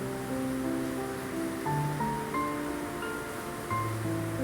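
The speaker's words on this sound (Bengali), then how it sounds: "এবারে আমি মশলাটা ভালো করে কষে নিচ্ছি।" Spice paste with chili powder and a splash of water sautés in a pan with a steady, even sizzling hiss, while soft background music plays throughout.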